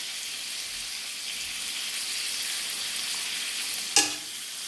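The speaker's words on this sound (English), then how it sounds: "Just saute it till the tomatoes are finely cooked on slow flame." Tomatoes for chutney sauteing over a low flame, giving a steady soft sizzle throughout, with one brief sharp clink of a utensil near the end and no talk.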